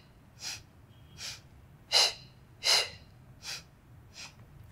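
Breaths during an intermediate Pilates workout come as a series of about seven short, close, audible puffs of air at a steady pace, with some louder than others, no speech.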